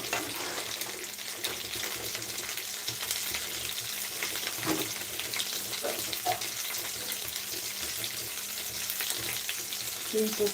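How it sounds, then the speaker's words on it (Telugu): Mint leaves fry in a pan with a steady, close sizzle that runs throughout, broken by occasional soft stirring scrapes and a brief louder crackle midway; no one speaks. "నేను పుదీనాను అయితే వేయించుకుంటున్నాను"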